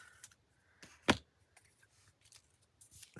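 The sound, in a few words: scissors trimming a paper figure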